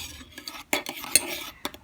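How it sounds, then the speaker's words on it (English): A utensil scrapes and clinks against a container while stirring a melted beeswax lip balm mixture. The taps are short, close and fairly quiet, a few of them irregularly spaced. "Once it's melted, I'm going to stir it for about 3 minutes to kind of cool it down before adding the essential oil."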